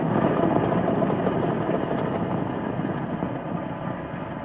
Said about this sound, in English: Engine full power and liftoff